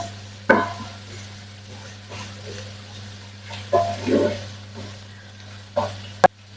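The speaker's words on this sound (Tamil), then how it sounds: "இது நல்லா கிளறி விட்டு கொள்ளுவோம்" Prawns frying in oil in a pan with curry chillies and capsicum, stirred now and then, give a soft steady sizzle with a few louder scraping stirs and a sharp clack near the end, with faint voices in the background.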